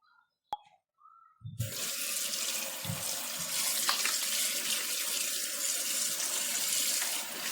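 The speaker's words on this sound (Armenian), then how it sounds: "սառը ջուր կլցնենք վրան" Cold tap water runs over food. After a couple of quiet knocks, a steady, close gush of running water starts and continues evenly to the end, alone without talk.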